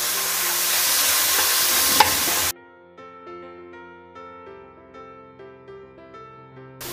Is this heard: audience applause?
no